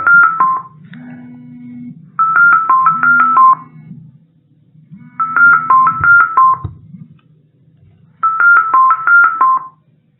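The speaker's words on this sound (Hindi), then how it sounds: "कोई टेलीफोन आ गया बीच में, घंटी बज रही थी।" A telephone rings in four repeated bursts of warbling electronic tones, separated by short silences, loud and clear.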